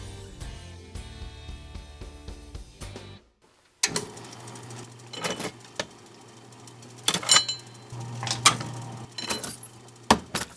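A letterpress printing press runs with a steady mechanical clatter of rhythmic clacks and metallic clinks, briefly stops, then resumes at close range with sharper repeated impacts; no voices.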